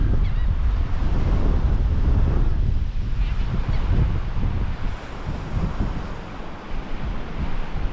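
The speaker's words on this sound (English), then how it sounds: "Very clean beach." Waves break and wash on the shore at Mexico Beach on a clear day, a steady, loud, rumbling surf mixed with heavy wind buffeting the microphone and no voices.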